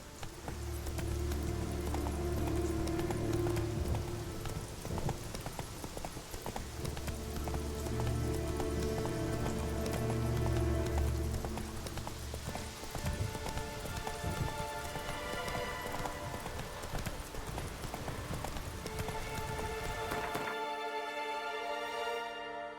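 Roach, a horse in The Witcher 3, gallops at a fast, steady pace, its hoofbeats loud and close and rolling continuously, with tonal game music surfacing near the end.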